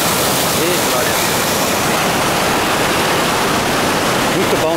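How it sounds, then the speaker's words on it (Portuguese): Waterfall at Usina da Fumaça in rural Muriaé, a loud, steady, broadband roar of falling water close by that fills the whole stretch with no break. "Cachoeira Usina da Fumaça, zona rural de Muriaé."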